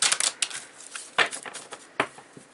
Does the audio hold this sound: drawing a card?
yes